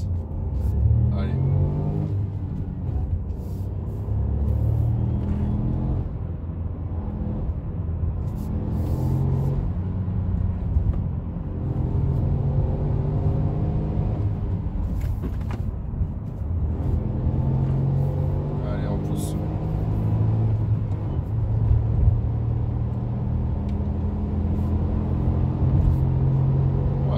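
A Ford EcoSport 1.0 EcoBoost 140 ST Line pulls hard uphill, its engine rumbling and revving steadily and close throughout, rising in pitch as it accelerates.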